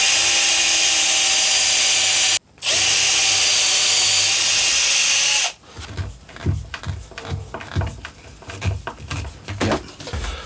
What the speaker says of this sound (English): if you drill some holes through the top on either side of where the headstock will be cut out